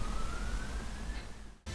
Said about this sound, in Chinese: 喂、有救护车添